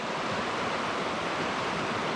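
Rapids on the Toccoa River rush in a steady, dense roar of broadband water noise, continuous and fairly loud with no talking.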